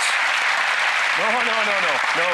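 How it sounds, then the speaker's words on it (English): Audience applause on a televised magic show, a dense even wash of clapping throughout, with a voice starting to talk over it partway through. "Don't applaud that"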